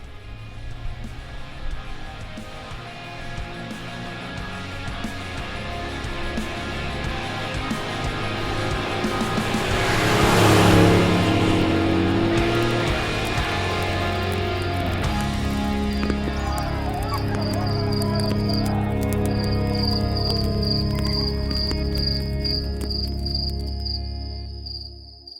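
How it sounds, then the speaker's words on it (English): A fully electric Audi Q6 e-tron SUV drives past with a smooth, rising and fading whoosh of tires and wind, no engine roar, followed by a faint high electronic hum. "That's the sound of the fully electric Audi Q6 e-tron"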